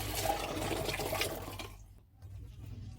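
Fermented rice and longan mixture for Thai longkong wine poured into a fermentation tank, a close, continuous splashing gush that cuts off abruptly partway through, leaving quieter trickling and low rumble.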